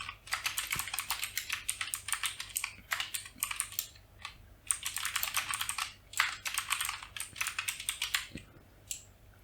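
Rapid typing on a computer keyboard while writing HTML code, close and steady clatter in two long bursts separated by a brief pause.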